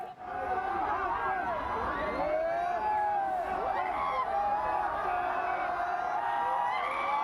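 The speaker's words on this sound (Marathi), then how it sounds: "चाहते जलसा या त्यांच्या निवासस्थानाबाहेर गर्दी करत असतात" A large crowd of fans gathers outside Amitabh Bachchan's home, Jalsa, with a dense, continuous roar of many voices and occasional whoops and shouts throughout.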